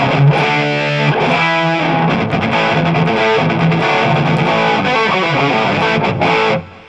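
An electric guitar plays distorted chords and notes through a Joyo BantAmp XL Meteor II amp with the tone turned fully up, bright and loud, ringing alone before cutting off at the end.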